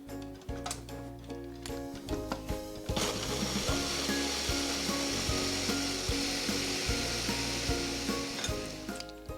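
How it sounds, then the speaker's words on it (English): A blender whirs steadily as it mixes pumpkin pie filling sweetened with honey. A lower, rhythmic churning comes first, then a loud, continuous motor roar takes over close by and lasts to the end. "So we have all of our ingredients in the blender. Now I'm gonna go ahead and mix it all up together."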